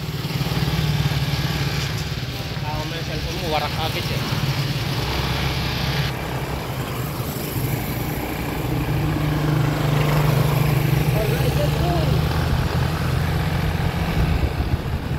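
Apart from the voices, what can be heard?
motorcycle engine running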